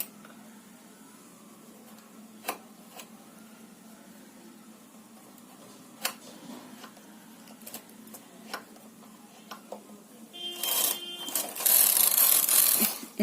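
A domestic knitting machine works a row for thumb socks. Faint scattered clicks and ticks lead into a loud, rasping carriage sweep near the end, close and with no talking.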